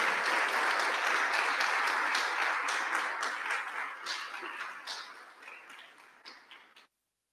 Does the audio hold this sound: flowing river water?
no